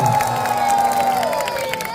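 Spectators at an indoor volleyball semi-final cheering and clapping, a brief loud crowd roar with whistling tones over it.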